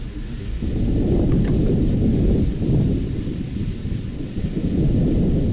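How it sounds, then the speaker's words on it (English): A heavy thunderstorm rumbles outside in The Last Express game, with loud, continuous low thunder rolling over steady rain for several seconds, no voices. "Now you can hear the storm outside."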